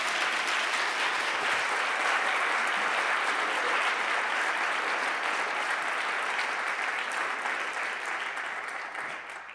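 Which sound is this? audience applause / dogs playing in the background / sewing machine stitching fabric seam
audience applause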